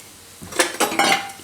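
Desi jaggery melts in ghee in a pan while a metal spoon stirs it, giving three quick scraping clinks against the pan after a brief quiet start.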